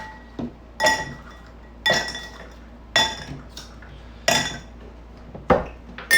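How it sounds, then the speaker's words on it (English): Ice is stirred in a mixing glass for an Oaxaca Old Fashioned cocktail, giving bright glassy clinks in regular bursts about once a second, close and crisp against a quiet room. "I'm just going to grab some ice and we're going to do some stirring."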